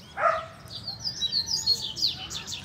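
Double-collared seedeaters (coleiros) sing near a nest, a run of bright, rapid chirps and warbling phrases that carries steadily through the whole stretch, with an earlier lower call at the start and a faint low rumble underneath.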